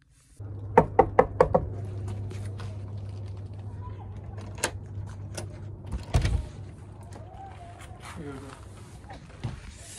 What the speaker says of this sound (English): Go knock on the door and see see what this man got to say.